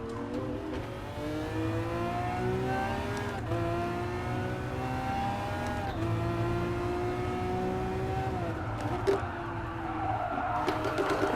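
Race car in Gran Turismo Sport played in VR, engine whining through rising and falling gear pulls while tires skid under trail braking, continuous and fairly close with no talk.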